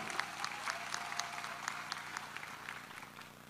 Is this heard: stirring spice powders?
no